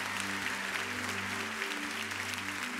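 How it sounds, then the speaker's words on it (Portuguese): A church congregation applauds during an evening service, a steady dense wash of clapping that holds at an even level throughout, with a low hum beneath. "Pode dar um aplauso ao Senhor e esse brado de vitória ao Pai."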